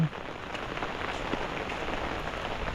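Heavy rain drums steadily on surfaces outdoors during a downpour in a flood-prone area, a close, dense, even patter with no talking.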